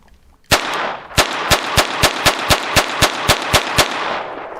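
A Hammerli 1911 pistol chambered in .22 LR fires CCI rounds: after a brief pause, about a dozen sharp, loud shots ring out in a fairly steady rapid rhythm, each with a short ringing decay, with no talking.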